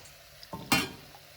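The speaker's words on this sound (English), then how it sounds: "you see the mushrooms have started frying together with the rice and this olive oil white wine sauce" Mushrooms and rice fry in olive oil and white wine for risotto ai funghi, with a spoon scraping the pan and a sudden hiss as broth is poured in, close and brief.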